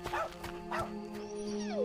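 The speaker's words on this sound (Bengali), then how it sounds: "হঠাৎ ছাদের কুকুরটা ঘেউ ঘেউ করতে করতে ছুটে এসে" A rooftop dog in a horror cartoon barks three times in quick succession, each yelp followed by a whining, whimpering tail, close and fairly loud over a steady tonal hum.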